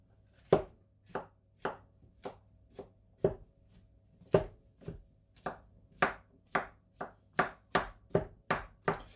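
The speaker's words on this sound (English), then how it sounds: "Don't even know whether this is the right way to be chopping it" Knife chopping mushrooms into large chunks on a board, about fifteen crisp, separate thuds in a steady, slightly uneven rhythm, close and clear with no talking.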